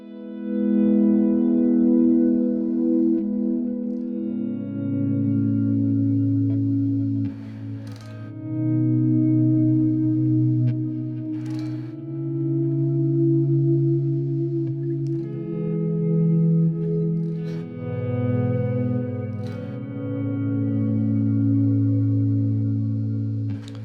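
Slow, swelling guitar notes fade in and blend into a lush, ambient pad, washed in long reverb and echoing delay, with no voices.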